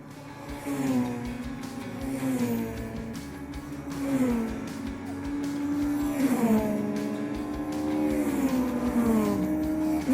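Super Touring race cars at Knockhill Racing Circuit on a damp track, loud engines revving up and down through gear changes, several cars close together with overlapping pitch sweeps.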